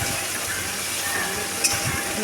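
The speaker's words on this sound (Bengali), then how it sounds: "এদিকে আমি পেঁয়াজটা ভাজার জন্য গরম তেলটার মধ্যে দিয়ে দিয়েছি।" Onions fry in hot white oil with a steady, close sizzle and crackle, continuous and bright throughout.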